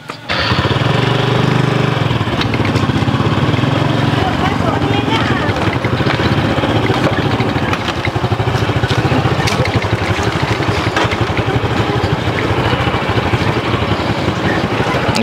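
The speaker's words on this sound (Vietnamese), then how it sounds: "Đi xe đấy. Đi xe máy đi ạ." Motorbike engine running on a rural road, a loud steady droning rattle close by throughout, with occasional voices under it.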